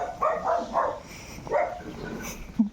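A friendly neighborhood dog on a quiet residential street in Lagro, Quezon City gives a few short, mid-distance barks and yips in a loose rhythm, with low outdoor background noise between them.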